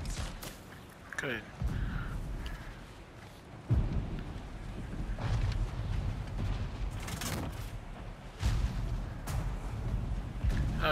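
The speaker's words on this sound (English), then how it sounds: "I don't like the sound of this, like, thunderstorm" Thunderstorm in God of War Ragnarök: steady low rumbling with heavy rolling thunder swells and sharp cracks, a dense storm bed running throughout with no speech over it.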